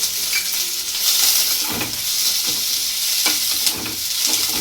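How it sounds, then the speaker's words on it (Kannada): Finely chopped garlic and ginger shallow-frying for a chicken biryani masala sizzle steadily in a pan, with repeated scraping and stirring strokes close by and no voices. "ಇದೆಲ್ಲ ಸ್ವಲ್ಪ ಶಾಲೋ ಫ್ರೈ ಆಗೋ ತನಕ ನೀಟಾಗಿ ರೋಸ್ಟ್ ಮಾಡ್ಕೊಳ್ಳೋಣ."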